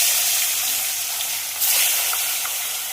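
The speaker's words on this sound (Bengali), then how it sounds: "মাছ ভাজার জন্য আমার তেল কিন্তু একদম গরম হয়ে গেছে এবার মাছগুলো একে একে ছেড়ে দেবো" Pieces of chital fish are slid one by one into very hot oil, giving a loud, continuous, close crackling sizzle that swells briefly as another piece goes in.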